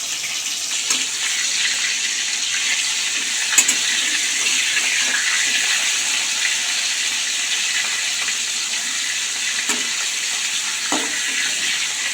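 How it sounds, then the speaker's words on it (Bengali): Rohu fish pieces, coated with salt and turmeric, fry in hot oil in a wok with a continuous, close, loud sizzle, broken only by an occasional light clink and no talking. "মাছ ভাজাটা লাল লাল করে ভাজা হয়ে গেছে"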